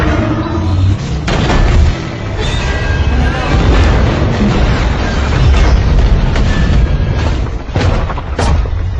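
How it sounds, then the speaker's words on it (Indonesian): A film scene of trucks slamming into an oil tank and blowing up, with heavy booming blasts, crashing debris and rumbling fire layered in a dense, loud soundtrack. "menyebabkan 3 truk milik Owen terbalik lalu meledak."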